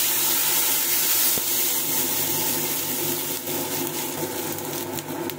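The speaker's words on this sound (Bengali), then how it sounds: "এবার দিয়ে দেবো জলের পরিমাণ।" Water streams steadily into a cooking pot of mango chutney on the stove, making a continuous close hiss and splash that holds at an even level throughout with no talk.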